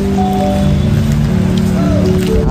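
Rain falling steadily in the seaside town of Digha, a dense continuous patter close by, with a low steady hum beneath it and no talking.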